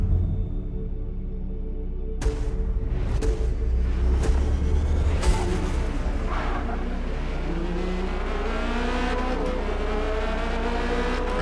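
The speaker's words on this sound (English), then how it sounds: "Rev limiter." A race car in Forza Motorsport bangs against its rev limiter, a loud, steady, buzzing engine drone with sharp stuttering bursts in the first half, then climbing gear-change sweeps as it pulls away, alone with no talk.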